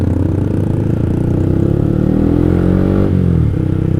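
A motorcycle fitted with a JB159 trioval exhaust rides on a road, its engine note steady and loud with harmonic rumble, briefly dipping in pitch near the end as the revs drop and pick back up.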